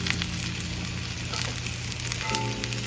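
Portobello mushrooms sizzle and fry in a hot cast iron pan, giving a steady, soft crackling hiss with faint stirring and no talk.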